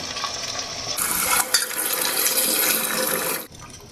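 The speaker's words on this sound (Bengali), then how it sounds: "এবার আমি একটু জল দিয়ে দেবো।" Water pours into a biryani pot in one steady broadband rush that swells after the first second and cuts off sharply near the end, close and loud with no talking.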